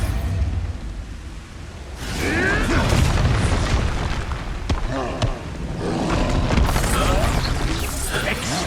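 Spell explosion from the Expulso curse in the video game Hogwarts Legacy, a loud booming burst amid a dense, chaotic battle soundscape with shouting voices and continuous crashes and impacts.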